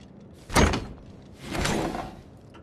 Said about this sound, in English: I must be bored if a door is grabbing my attention.